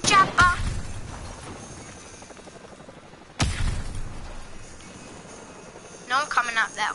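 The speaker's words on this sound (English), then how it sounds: "Oh, enemy chopper." An enemy helicopter in the Call of Duty Modern Warfare campaign makes a steady, rumbling rotor drone amid game noise, broken by two heavy booming hits, one at the start and one midway.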